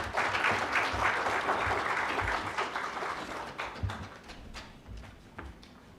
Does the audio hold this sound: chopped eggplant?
no